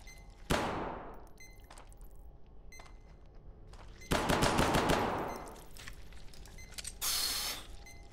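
Gunfire in the horror video game Hidden Deep: a single sharp shot, then a longer burst of rapid shots and a final bright crackling blast, separated by quieter mechanical ticks.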